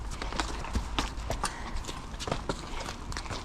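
Horses' hooves clip-clop on a hard stable floor as several horses walk in out of the rain, an irregular overlapping patter of close, moderately loud steps with faint background noise.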